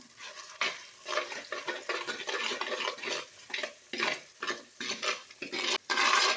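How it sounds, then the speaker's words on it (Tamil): Curry masala being stirred and sautéed in oil for a village-style country chicken curry, a spoon scraping the pan in repeated close strokes with a faint sizzle underneath, no voices. "இதை நல்லா எண்ணெய் பெரியற வரைக்கும் நல்லா வதக்கிட்டு அப்புறம் சிக்கனை சேர்த்துக்கலாம்"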